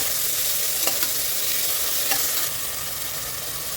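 Three chopped ripe onions sautéing with salt in a pan for chana pulao, a steady close sizzle with a couple of brief stirring scrapes.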